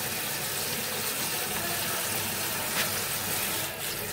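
Steady running water pours over vegetables being rinsed of sand in a home kitchen, a continuous broadband splashing rush heard close up with no talking.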